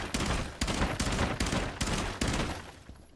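Rainbow Six Siege gunfire at a trophy cabinet in Bartlett University: about seven heavy, evenly spaced bursts of rifle fire ring out loud and close, each with a sharp crack and a short decaying tail.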